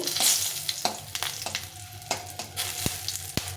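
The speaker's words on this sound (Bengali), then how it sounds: "এখন আমি তেজপাতাটা দিয়ে দেবো দিয়ে একটু ভেজে নেড়ে নেব" Bay leaf frying in hot oil in a pan with a steady sizzle, stirred by a utensil that scrapes and taps the pan several times, close up with no speech.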